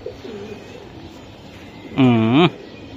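A racing pigeon cooing close up: a faint murmur at the start, then one loud, rich, rolling coo lasting about half a second, over quiet background hiss.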